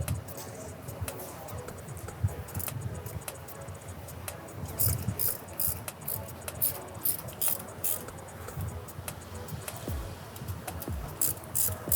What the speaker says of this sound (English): Tighten it up, and we're going to go through and tighten them all up here.